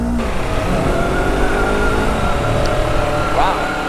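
A sport motorbike on a test ride gives a loud, sustained engine drone mixed with rushing wind noise, the pitch rising and shifting as it accelerates.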